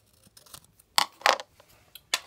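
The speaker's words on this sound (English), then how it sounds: "I'm gonna trim this side" Scissors snip along the side of a homemade binder in a few quick, close, crisp cuts separated by short pauses.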